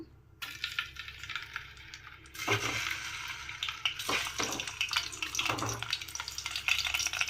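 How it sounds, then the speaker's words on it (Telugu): Eggs go into hot oil in a pot for an Andhra egg curry and set off a sudden loud, crackling sizzle. It roars close and unbroken with bursts of spatter, and nobody speaks. "ఇప్పుడు ఆయిల్ వేడైపోయింది. ఇప్పుడు ఎగ్స్ బాయిల్ చేసుకుందాం మనము."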